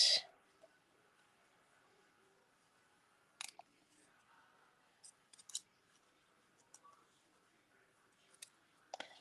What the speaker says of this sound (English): And then I'm going to cut up and cut a banner end.